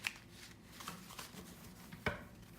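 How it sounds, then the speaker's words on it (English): A deck of playing cards is riffle shuffled, soft rapid flutters and light taps running quietly throughout, ending with a sharper snap as the cards come together. "now what I do is I give it a riffle shuffle"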